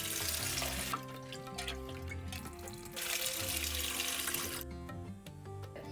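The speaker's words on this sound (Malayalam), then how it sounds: "ആദ്യം പരിപ്പ് നന്നായി കഴുകിയെടുക്കണം" Water runs from a tap while toor dal is rinsed in a bowl at a kitchen sink, a continuous, fairly soft rushing with light splashing throughout.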